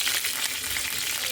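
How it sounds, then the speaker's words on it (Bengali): Onions frying in a little oil in a pan for chana dal, a steady, close, dense sizzle with no break through the short stretch and no one speaking. "পেঁয়াজটা আমি ভাজা ভাজা করবো, লাল করে ভেজবো।"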